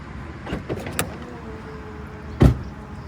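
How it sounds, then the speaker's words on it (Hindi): An Audi RS5's boot is unlocked with the key and opened: a couple of soft clicks, a faint motorised whine, then one firm, close thunk as the latch releases and the lid lifts. "बूट मैंने खोल दिया चाबी से।"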